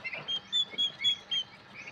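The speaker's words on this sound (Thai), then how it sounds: "ไก่งวงใจแอน" Faint giant turkey calls sound in a quick series of short, evenly spaced bursts, a little distant, with no talking.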